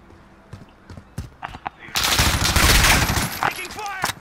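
Automatic gunfire and explosive bursts from the video game Call of Duty: Modern Warfare in a 2v2 match, scattered single shots giving way to a dense, loud sustained barrage, with voices talking over the action.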